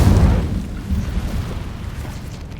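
An Incendio fire spell from Hogwarts Legacy bursts with a deep, loud whoosh that swells at the start, then settles into a crackling, rumbling burn that slowly fades over a couple of seconds.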